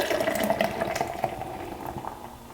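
Lawson's Finest Nitro Stout poured vigorously from a can into a glass, a steady close splashing, gurgling stream of liquid with fizzing foam running continuously throughout.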